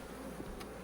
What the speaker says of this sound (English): hive full of bees